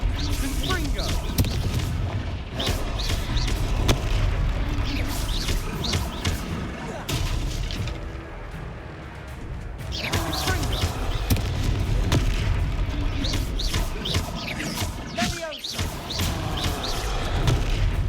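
Repeated Confringo spell explosions in the video game Hogwarts Legacy boom and burst in heavy, continuous bursts amid battle noise, with a couple of brief lulls between volleys.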